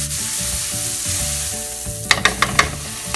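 Grass-fed butter sizzles in a pan with a steady hiss, followed by a quick run of four sharp clinks and knocks against the cookware near the end.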